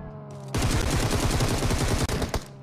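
Rapid automatic gunfire from a Beryl M762 rifle in a PUBG match, a loud, close burst of evenly spaced shots lasting nearly two seconds, stopping briefly before a final shot, with no talking over it.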